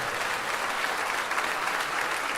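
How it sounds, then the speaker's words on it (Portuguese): A large church congregation keeps clapping at an evangelical service, a thick, even roar of hands that holds steady without pause. "E está vindo mais, vamos aplaudir mais."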